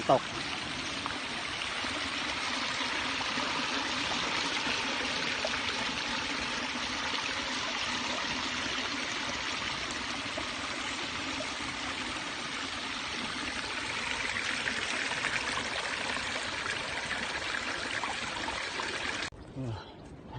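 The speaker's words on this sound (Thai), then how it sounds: "น้ำตก" A waterfall in the forest gives off a loud, steady rushing and splashing roar that continues without a break, then cuts off abruptly near the end.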